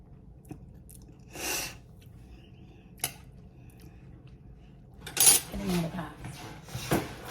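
Someone chews a mouthful of homemade potato salad tasted from a clean spoon: soft, close mouth sounds in short bursts with a few light clicks and brief voice sounds, over quiet room background.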